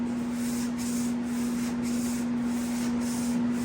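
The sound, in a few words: sander on a Jeep CJ7 body panel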